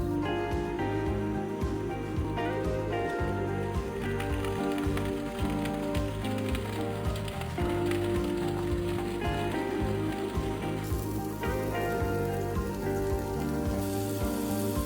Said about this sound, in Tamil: இப்போ வந்து தக்காளி ஆட் பண்ணிக்கலாம்.